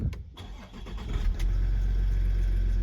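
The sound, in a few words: diesel engine starting and clattering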